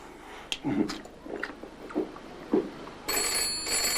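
A telephone bell rings in a home in repeated short bursts, fairly close and loud, followed by a steady high electronic tone in the last second.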